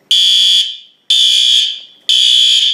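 A fire alarm horn blares in a strobe synchronization test, three loud, piercing electronic blasts about a second apart, each cutting off with a brief fading tail, close and alone.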